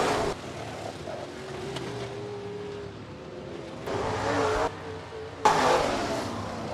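Stock cars roar past in a heat race at Rapid Speedway, a dirt track, with a steady engine drone that swells as the cars pass close and fades between passes.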